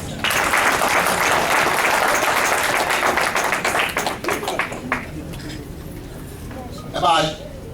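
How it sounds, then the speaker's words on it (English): An audience at a community association gathering breaks into loud, dense applause that gradually thins out to scattered claps, ending with a brief burst of voices. "Again, a big round of applause."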